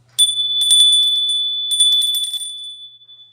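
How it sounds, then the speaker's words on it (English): A bell rings out in repeated bright strikes with a long, steady ringing tone that sustains and fades, heard clearly and alone. "I'm going to ring the bell."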